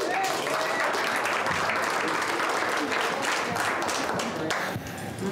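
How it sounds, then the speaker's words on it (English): Dense, steady applause from a comedy club audience, many hands clapping close by at full volume for several seconds before tapering slightly at the end. "A round of applause."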